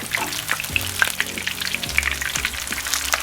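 Pork lumpia crackle and sizzle in hot oil, with sharp pops and spits over a continuous frying hiss, close by.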